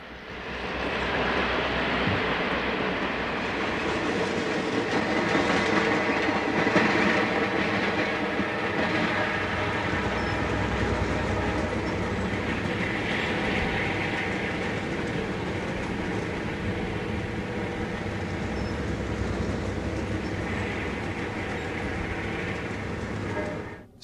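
Amtrak's Super Chief passenger train on the Santa Fe line, running with original Santa Fe equipment, rumbles past loud and close, a sustained roar of wheels and cars with faint clickety-clack, steady for the whole stretch before cutting off.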